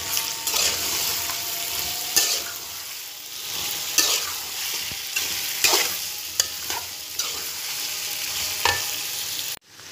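Mixed vegetables with potatoes, peas and carrots stirred in hot oil in a pan: a steady close sizzle broken by repeated scraping strokes of a spoon, with no voices.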